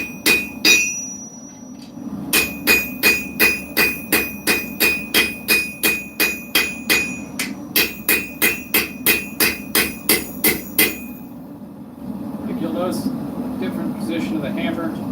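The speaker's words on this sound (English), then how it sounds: "Different position of the hammer." A hammer forging a blade at the forge rings out in a steady run of about thirty evenly spaced, bright metallic strikes. A short pause breaks the run, and it ends in a low roar of forge noise.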